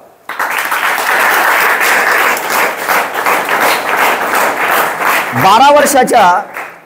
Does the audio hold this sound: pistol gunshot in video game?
no